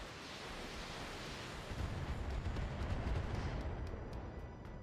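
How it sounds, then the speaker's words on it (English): Missiles launch in a BattleTech mech combat game, a dense roaring barrage of rumbling blasts that swells toward the middle and then thins out with crackling tails. "Missiles, I'm guessing that's one of the vehicles."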